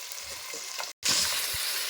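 Mutton frying in a pan with turmeric and ginger, a steady close sizzle with stirring that cuts out briefly and then resumes just as loud.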